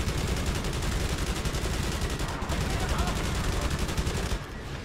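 Sustained aircraft machine gun fire in the World War II flight game Wings of Prey, a dense, continuous rattling of rapid shots that fills the whole stretch with only a brief break near the end.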